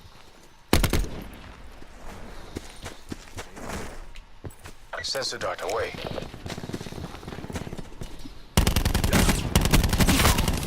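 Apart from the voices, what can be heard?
automatic gunfire in a video game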